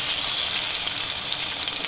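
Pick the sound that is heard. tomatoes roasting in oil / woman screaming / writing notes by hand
tomatoes roasting in oil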